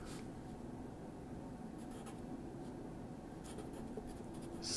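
A pen scratches continuously across paper, a soft, close, faint rasp with small strokes and pauses, with no talking.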